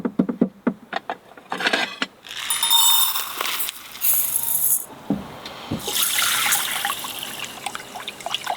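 Water poured and running from a tap in a micro camper van while rinsing rice for sushi, with bursts of splashing and trickling between clicks and handling knocks.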